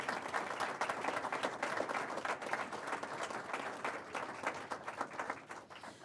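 An audience at a university event announcing a new athletic director applauds steadily for several seconds, a dense, even wash of many hands clapping in a room.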